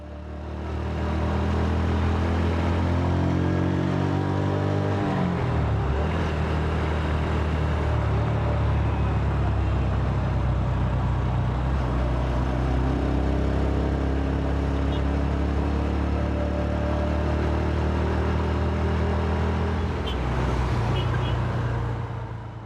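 A motorcycle pulling away from a green light and riding along Gayaza Road in traffic, its engine droning loudly and continuously with rising and falling pitch as it shifts through the gears, under steady wind and road noise.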